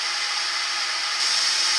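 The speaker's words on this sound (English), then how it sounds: "get the lathe spinning to a decent speed." A wood lathe set up for turning a bowl runs with a steady, even whirring hum that grows a little brighter partway through, close and continuous with no voices.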